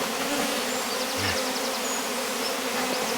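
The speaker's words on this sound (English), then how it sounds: "So they're acting really like a swarm" Honeybees swarm around a Rose hive, their steady, dense buzzing filling the air close by without a pause.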